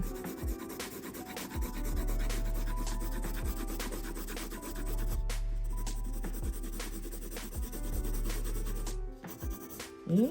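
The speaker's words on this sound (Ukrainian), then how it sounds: "Зафарбуємо хвіст. Ось цю частинку." A pencil rubs and scratches steadily across paper while coloring in a drawing, close and continuous with a rhythmic back-and-forth texture over a low hum, no talking.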